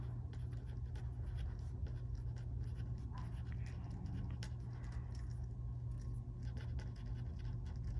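A pen or pencil scratches out a fraction by hand on paper, soft continuous scribbling strokes over a steady low background hum, close and fairly quiet with no talking.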